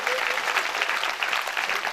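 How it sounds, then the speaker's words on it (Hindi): An audience gives brisk, steady applause for local journalists at a gathering, dense clapping that fills the whole moment without pause. "इन सभी पत्रकार बंधुओं के लिए जोरदार हाथ उठाकर ताली बजाएंगे"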